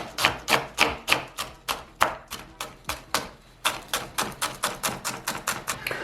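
A knife dicing onion into small cubes on a cutting board: a long run of crisp, evenly spaced chopping taps, about three to four per second, loud and close with no voices.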